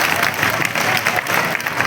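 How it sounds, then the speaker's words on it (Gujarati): Crowd at a community mass wedding gives loud, dense applause for a leader, continuous clapping filling the space. "એકવાર જોરદાર તાળીઓ"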